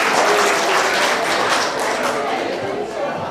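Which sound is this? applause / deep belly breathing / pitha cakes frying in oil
applause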